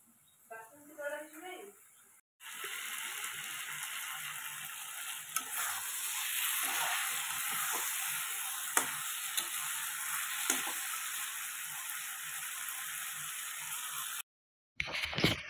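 Spice masala fries in a pan for a pea and potato curry. A dense, even hiss of sizzling oil carries through most of the clip, broken by occasional stirring scrapes, with brief speech near the start.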